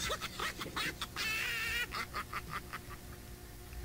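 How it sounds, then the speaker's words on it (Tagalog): Farm chickens cluck and squawk in a quick run of calls, a few close by and others farther off. They are loudly audible with no talk over them. "Parang farm yata ng manok yun dyan ah."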